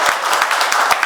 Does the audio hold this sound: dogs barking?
no